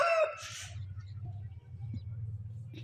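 A rooster crows briefly right at the start, loud and close, then fades into a steady low hum for the rest of the moment.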